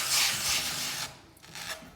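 Vermilion pigment being ground by hand, a harsh abrasive rubbing rasp in two close strokes, loud at first then briefly fading before a second scrape.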